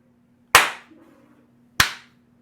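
Two loud, sharp hand claps spaced more than a second apart, each ringing briefly into a quiet room with a low hum behind, a deliberate slow clap with no talk.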